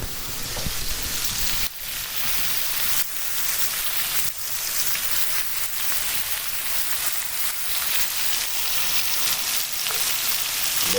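Peppers and onions fry alongside a pork chop in a hot pan, giving a steady, loud sizzle that runs unbroken, with a few brief clatters of the pan breaking through.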